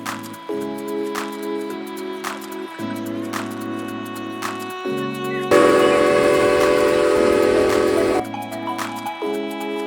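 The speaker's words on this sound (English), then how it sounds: "It's a pretty fast train. It's very loud though if you're sitting in the first two cars." A 100-year-old Cumbres & Toltec steam train running from Chama to Antonito sounds loud, repeated whistle blasts, broken midway by a harsher, louder roar of steam before the whistling resumes.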